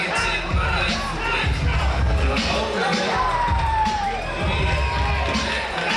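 A big arena crowd roars and cheers for welterweight champion Ryan Castro at the KTFO 13 MMA event, with loud, sustained shouting, whoops and babble that surge and swell through the whole stretch.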